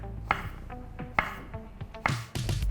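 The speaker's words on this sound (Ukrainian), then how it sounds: "поки все запікається, нарізаю огірки" A knife slices cucumbers on a cutting board while potatoes and fish bake, several crisp separate chops with gaps between them, close and fairly quiet with a faint clatter of kitchenware.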